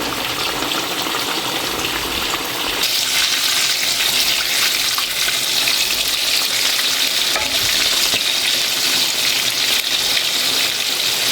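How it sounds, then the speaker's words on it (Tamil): Fish curry made with tomato and tamarind bubbles and sizzles steadily in a pan, a continuous close hiss that grows a little louder partway through, with no voices. "இந்த மீன் குழம்பு ரெடி ஆகிக்கொண்டிருக்குது."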